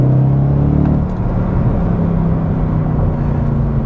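Mercedes-Benz W204 C63 AMG with a 6.2-litre naturally aspirated engine, a loud deep droning roar with strong low harmonics that shifts pitch as revs change under acceleration, steady and close inside the cabin.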